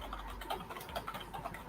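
Keys clatter on a computer keyboard in quick, irregular bursts, close and fairly quiet, with no voices.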